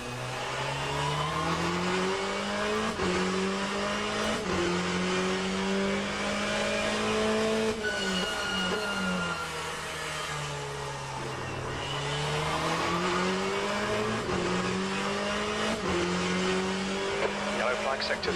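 Race car engines wail and downshift through repeated rising and falling tones during a GTE event at Donington Park in rFactor 2, with tires squealing under locked brakes and a voice talking over the engine note.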